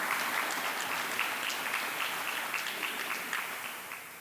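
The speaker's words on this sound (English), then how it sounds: "Can we give them a round of applause for their efforts every day?" Applause at an outdoor topping-out ceremony for construction workers on a building project, a dense steady round of clapping from a crowd that holds throughout and tapers slightly at the end.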